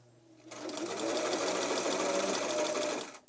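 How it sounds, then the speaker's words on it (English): One continuous run of a sewing machine stitching a fabric face mask, starting abruptly and whirring steadily for about three seconds at close range before stopping. "now we're sewing"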